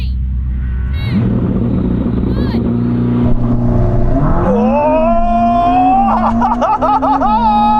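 A Ferrari SF90 and a Porsche 911 Turbo S launch side by side in a drag race, heard from inside a cabin as a loud, continuous engine roar that rises sharply in pitch through the gears, with wind and road rumble underneath.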